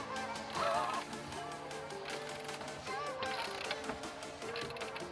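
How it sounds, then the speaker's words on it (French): A Magnusson ratchet wrench clicking in quick bursts while a suspension control arm is swapped on a Peugeot 206, with metallic creaks and faint background chatter in a garage. "Fais gaffe ton cliquet n'est pas enfoncé dedans"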